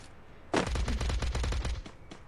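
Video game gunfire sounds as a rapid automatic burst of about a dozen sharp shots lasting over a second, followed by a couple of isolated shots, fairly loud with no talking.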